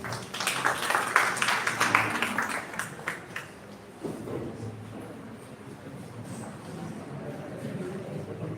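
An audience at a national conclave on Indian knowledge systems claps to welcome a speaker, a dense burst of applause that fades after a few seconds into a quieter hall murmur.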